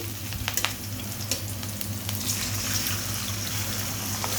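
Three eggs frying in a pan with onion and green chili, a steady loud sizzle with a low hum beneath and a few light clicks of a utensil early on, close up, no voices.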